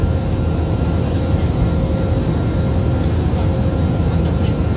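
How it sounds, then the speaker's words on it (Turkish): Steady, loud cabin roar of an airliner in flight from Istanbul to Astana, a continuous low broadband drone with a faint whine, unbroken for the whole stretch. "İstanbul'dan Nur Sultan'a yani Astana'ya 8 saatlik uçak yolculuğumuz yarım saat önce başladı."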